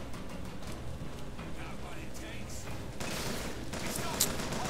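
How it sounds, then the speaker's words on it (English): Bursts of gunfire in the video game Bioshock Infinite, a steady rattle of shots under a dense game soundscape that grows louder and harsher in the second half, with a voice talking over it. "Who's shooting at me?"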